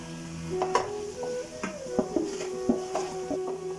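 Chili, coriander, garam masala, turmeric and pepper powders stirred into a masala paste in a pan for a kadamutta roast, spoon scraping and clicking irregularly over a soft steady sizzle, close.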